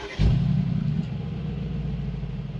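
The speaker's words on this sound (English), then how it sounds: "but before that let's do a sound check." A 2024 Mercedes G63 AMG V8 starting up, a sudden loud bark followed by a deep, steady rumbling idle close to the microphone, no talk.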